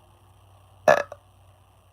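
A single loud, close burp, short and abrupt with a brief trailing gulp just after, over quiet room tone.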